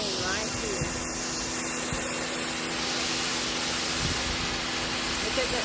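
A Patoolio W8 4800 PSI pressure washer sprays in a steady, loud hiss that runs unbroken throughout, with a low motor drone beneath and a voice speaking briefly over it.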